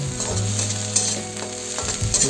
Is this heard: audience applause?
no